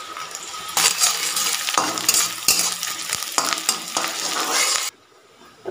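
Chopped onion with cumin, cloves and cinnamon frying in oil in a pan for an egg and potato curry, a loud steady sizzle broken by repeated stirring scrapes and utensil clinks, dropping away near the end.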